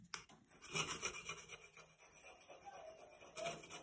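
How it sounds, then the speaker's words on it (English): Paint being scraped off the metal legs of a Preston Innovations Absolute D36 seat box, a rapid rhythmic rasping of repeated short strokes heard close up and alone. "we'll be able to scrape it all off and have some nice bare silver legs"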